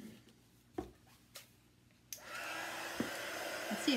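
A hair dryer dries small craft animal figures, switching on about halfway through with a steady, close, loud blowing roar that runs to the end after a few quiet knocks and handling sounds.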